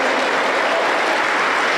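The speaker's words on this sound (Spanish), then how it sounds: "Con alegría las palmas para Dios" A church congregation claps together in sustained, dense applause during a worship service, steady and loud with no talking over it.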